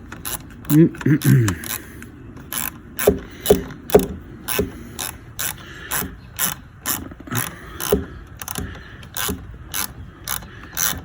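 A ratchet wrench tightens the positive terminal clamp on a newly installed car battery, its rapid clicking coming in steady close bursts, with someone talking briefly at the start.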